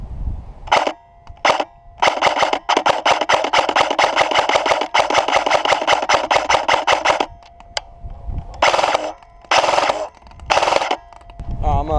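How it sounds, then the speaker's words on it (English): Krytac MK2 CRB airsoft rifle fires full auto on an 11.1 V 20C LiPo, giving loud, close, rapid buzzing bursts: a few short strings, then one long sustained burst of several seconds, followed by more brief bursts with pauses. "go full auto and show you what this gun can do on with 11-1 20C LiPo"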